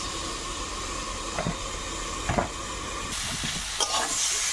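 Kohlrabi and potatoes fry in a pan, a steady broadband sizzle with a couple of soft stirring scrapes and clicks, close and continuous with no talk.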